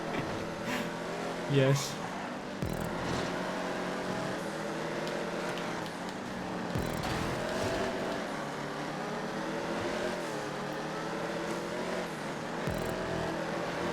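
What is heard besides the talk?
GP2 race car engine in video game GTA 5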